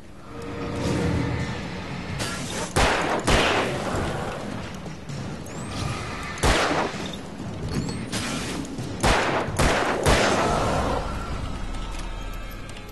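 Gunfire in the Alan Wake game: repeated sharp shots and booming blasts burst out loud over a dense, rumbling action backdrop, spaced irregularly across the stretch with no talking.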